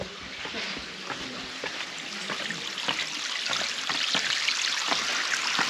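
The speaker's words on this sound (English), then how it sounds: "Oh, I can hear the water flowing." Running water echoes through an underground passageway beneath an ancient healing center, a steady close rushing and trickling wash that grows slightly louder, with no talk over it.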